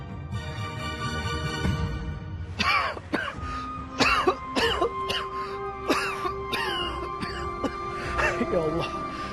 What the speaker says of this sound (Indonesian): kenapa batuku gak sembuh-sembuh?